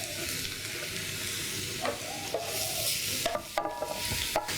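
Garlic cooking in hot oil alongside shallots in a pan, a close, even sizzle with a few sharp spatula scrapes and clicks toward the end, no one speaking.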